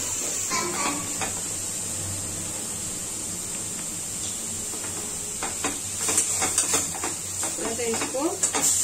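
Beetroot and cumin sizzle in refined oil in a hot kadai, a steady frying hiss under scattered clinks and scraping of a spoon against the pan, with someone talking over it.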